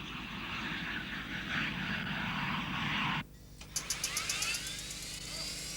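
A Tornado jet touching down: a loud, steady broadband engine roar for about three seconds, then a sudden drop followed by a series of sharp rhythmic bursts and a rising whine as the aircraft rolls out.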